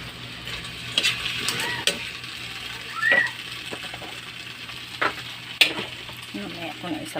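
Shrimp, tomato, onion, salt and squash sauté in a pan in a home kitchen, with a steady soft sizzle broken by scattered scraping stirs and utensil taps against the pan.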